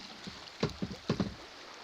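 A kayak paddling on Antietam Creek toward small rapids, with a few close, brief bursts of splashing water in two quick pairs over a soft, steady background wash.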